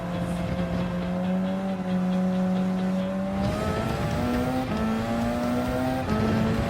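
Le Mans race car in Gran Turismo 7 on the final lap of a 24-hour race, engine droning steadily at high revs, pitch stepping up through gear changes, loud and close throughout.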